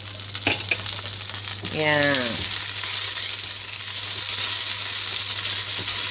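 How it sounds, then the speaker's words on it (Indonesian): Spring onions sauté in a pan with a steady close sizzle and frying hiss. A short spoken word and a rising tonal sweep come near the start, then the sizzle runs on alone. "Tumis-tumis sampai harum"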